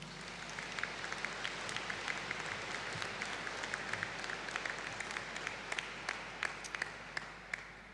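Graduation audience for the Bachelor of Science Honours in Biotechnology graduates at a Faculty of Science and Health ceremony gives a sustained round of applause, steady dense clapping from a large crowd heard at a distance throughout.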